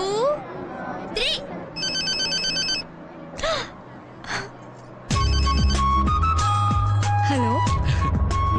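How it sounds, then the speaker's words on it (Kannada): A mobile phone rings with a repeated electronic tone in bursts, loud and close. Voices talk in between, and then music swells in underneath. "ಇನ್ 3 ಸೆಕೆಂಡ್ ಅಲ್ಲಿ ಆ DC ಫೋನ್ ಮಾಡ್ತಾನೆ ನೋಡು."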